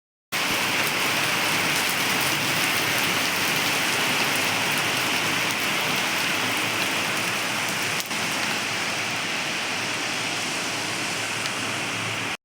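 Steady rain pours over a garden in a dense, even hiss of drops on surfaces, continuous and fairly loud with no voices.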